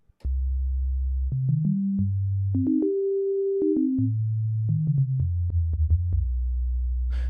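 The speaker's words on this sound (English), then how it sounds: "you start with a sine, just a standard garden variety sine wave" A U-he Bazille software synthesizer plays a pure sine wave as a stepped melody, each clean tone gliding up in pitch to a held peak and then back down, loud and close with no voices.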